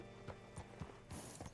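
Hooves of a horse in the Red Dead Redemption 2 video game clop at a steady walking pace, quiet and close, over a faint mechanical rattle near the end.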